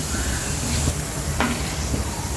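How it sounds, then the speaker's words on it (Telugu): Chana dal and grated coconut frying in a pan for coconut chutney, a steady close sizzle and hiss with a few faint stirring scrapes, no talking. "శనగపప్పు కొబ్బరి ఫ్రై చేసుకున్నాం కదండి"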